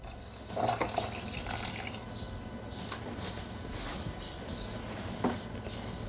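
Water pours steadily into the jug of a Thermomix, a soft continuous trickle and splash at close range with a few light knocks.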